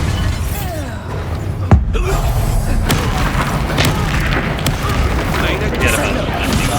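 An Expulso explosion spell from the Hogwarts Legacy video game goes off with a sharp, loud boom amid continuous game noise and combat sounds, with a voice speaking over the action.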